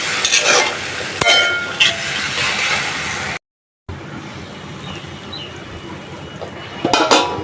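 Taro pieces frying in a pan for a catfish curry, a steady sizzle with occasional stirring scrapes and clinks, broken by a short silent gap midway.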